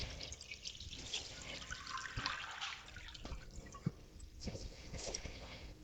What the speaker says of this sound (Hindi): इसमें इतना पानी ऐड करेंगे कि चिकन अच्छे से डिप हो जाए